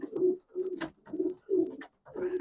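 Racing pigeons cooing in a breeding loft, five close, rounded coos in a steady rhythm with short pauses between, clear and moderately loud with no talk.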